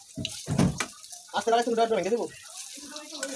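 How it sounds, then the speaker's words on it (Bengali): Pointed gourd (potol) kebabs shallow-frying in a pan, a soft crackling sizzle that runs under a person talking close by. "একটু সময় নিয়ে আমি উলট পালট করে এখন এভাবে ভেজে নেব।"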